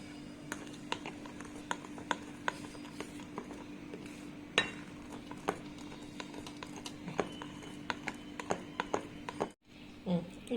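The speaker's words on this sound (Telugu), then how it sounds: "ఇప్పుడు ఇలా మైదా వేసుకొని ఇలా బీట్ చేసుకోండి, బాగా కొట్టాలి." A bowl of sponge cake batter with sugar and maida is beaten by hand, giving faint, quick, irregular clicking taps of a utensil against the bowl over a low steady hum.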